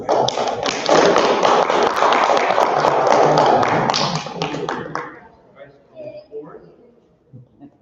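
An audience at a US History Bee finals award ceremony breaks into loud, dense applause for a prize winner, which lasts about four seconds and then fades to a few scattered claps under a speaking voice.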